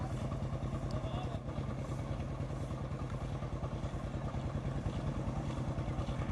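A Benz lorry sits unloading material for a new tar road, its diesel engine chugging in a fast steady rhythm close by, with a voice speaking over it.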